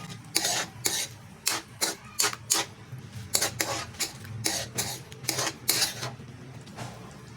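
A metal spoon stirs ground pepper into a ham macaroni sauce in a cooking pot, making repeated scraping and clinking strokes in an uneven rhythm, close and clear with no talking.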